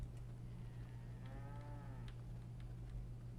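A cow in the video game V Rising gives a single drawn-out moo, audible over a low steady hum, with faint clicks scattered around it.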